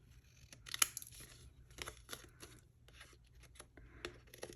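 Excess paper trimmed during a craft project, with soft snipping and tearing bursts and light crinkling, quiet and close with no talking.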